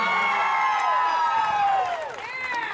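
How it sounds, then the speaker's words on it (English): An outdoor crowd at a sexual assault awareness walk cheers and whoops in a vote for a contestant, with excited shouting voices rising and falling and some applause mixed beneath. "And Walter, let's hear your applause"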